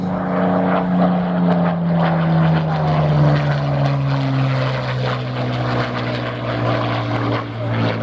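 A propeller aircraft engine drones loud and steady at an airshow, a deep sustained roar with a slowly falling pitch as it passes, continuous for several seconds.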